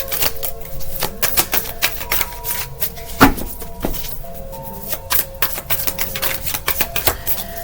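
Tarot cards shuffled by hand for a one-card pull, a steady run of crisp riffling snaps and taps with one louder slap partway through, close and clear, with no talking.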